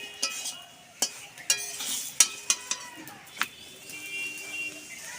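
A hing and green pea mixture for paratha fries in a pan, with a soft sizzle beneath sharp metallic clinks and scrapes of a spatula stirring at irregular intervals.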